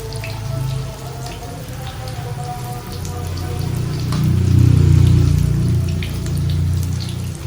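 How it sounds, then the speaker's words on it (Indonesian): Shallots fry in hot oil for a home meal, a continuous crackling sizzle with scattered pops over a low bubbling hiss that swells slightly midway, close and fairly loud. "Saya goreng bawang, saya suka banget goreng bawang gini"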